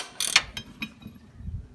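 Ratchet wrench loosening shock absorber nuts counterclockwise on a Volvo XC70, a few quick metallic clicks and one sharp crack as a nut breaks free, close and brief.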